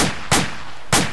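A few sharp, loud gunshots in the military game ACE 2, three separate reports spaced unevenly within a second, close and punchy with no talking.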